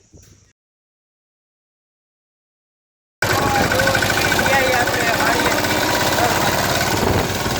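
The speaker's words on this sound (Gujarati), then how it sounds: "અહીંયા ટ્રેક્ટર હાલે છે" After about three seconds of silence, a tractor engine idles close by with a steady, rumbling chug that holds evenly to the end.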